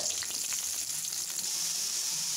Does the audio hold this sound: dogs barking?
no